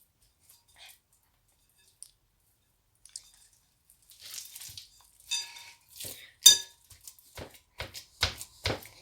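Hands mix burger dough with soft butter in a bowl, soft irregular squishing and crunching sounds starting faint and growing into close, uneven squelches.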